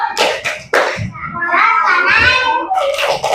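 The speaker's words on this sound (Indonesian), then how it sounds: "Kita mau tepuk salut dulu ke Mas Farel. Tepuk salut." Children in a classroom do a rhythmic 'tepuk salut' clapping routine for a classmate, with a few sharp claps followed by sung chanting voices, close and fairly loud.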